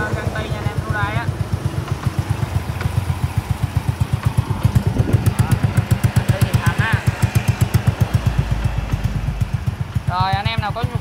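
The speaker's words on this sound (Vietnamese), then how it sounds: "Máy là đang nổ căng tay nha anh em" A Honda Super Dream 100 motorcycle with an upgraded, bored-out engine runs close by with a rapid, even pulsing exhaust beat. It revs up briefly near the start and again at the end, while someone talks over it.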